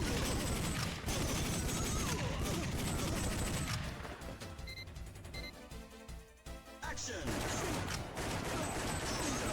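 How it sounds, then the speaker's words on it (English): Gunfire in a tight corridor in the arcade game Time Crisis rattles loud and dense in rapid bursts, easing into a quieter stretch of scattered shots and chimes before the barrage returns. "the sound your gun makes changes depending on whether you're outdoors or in a tight corridor like this"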